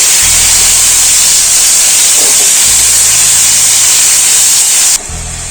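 Salted chicken pieces fry in hot oil for fried rice, giving a loud, constant sizzling hiss close by, with a low hum beneath that drops away near the end.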